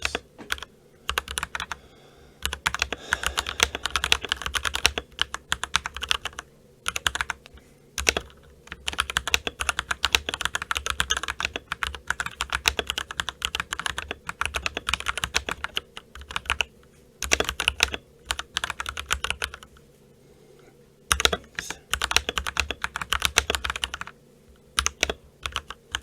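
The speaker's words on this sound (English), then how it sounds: "I got a little bit lost on the keyboard once or twice, but 60 words per minute is actually one of my better scores" Typing test on an RK98 100-key mechanical keyboard: fast, continuous runs of crisp, close key clicks with brief pauses between bursts, playing alone throughout.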